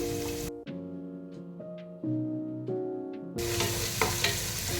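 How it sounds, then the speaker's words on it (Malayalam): Garlic, spring onion bulbs, capsicum, carrot and beans stir-fry for home-style fried rice, giving a loud hiss at the start and end, with a quieter stretch of ringing metallic tones in between. "അതിലോട്ട് സ്പ്രിംഗ് ഒണിയൻ്റെ ബൾബ് സൈഡ് ഇട്ട് കൊടുക്കാം അതുപോലെ ക്യാപ്സിക്കവും ക്യാരറ്റും ബീൻസും അതെല്ലാം ഉടങ്ങിയിട്ട് കൊടുക്കാം"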